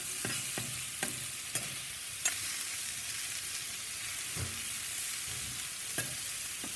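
Philly cheesesteak filling being mixed on a soapstone slab over a Big Joe grill: continuous sizzling with repeated scraping and tapping of a utensil at irregular intervals.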